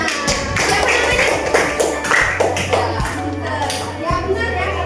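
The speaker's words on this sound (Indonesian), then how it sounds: "tepuk tangan untuk temennya" Young children in a classroom clapping for a classmate, a brisk round of hand claps with a low hum underneath and some children's voices mixed in.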